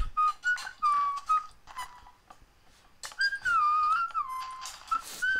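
A person whistles short bright rising and falling notes in separate bursts, with a pause in the middle before a longer warbling phrase, close and clear with no talk over it.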